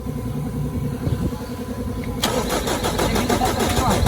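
A Mitsubishi 4M40 diesel engine cranks briefly, then catches and settles into a loud, steady clattering idle close by, with background voices before it fires.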